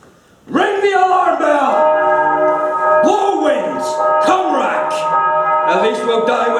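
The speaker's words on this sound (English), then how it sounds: "Ring the alarm bell!" An alarm bell rings out loud and close in a staging of Shakespeare's Macbeth, several resonant clanging strokes with long ringing overtones, struck at irregular intervals one after another.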